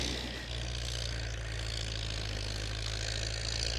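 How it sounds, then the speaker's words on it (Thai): Farm tractor engine running steadily while plowing a field where cassava is grown, a continuous low diesel drone throughout, fairly close, with no talking. "นั้นรถไถกำลังจะไถไปข้าง"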